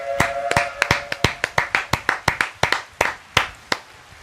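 A single person claps on a podcast set, about fifteen sharp, close hand claps in a loose, uneven rhythm with no talking over them.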